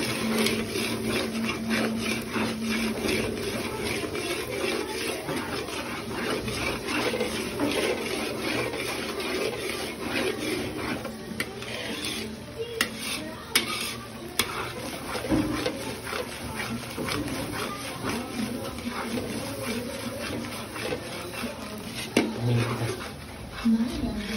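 Cooking oil is stirred in a large pot, giving a continuous scraping, rubbing rasp with steady sizzle underneath, as people talk over it.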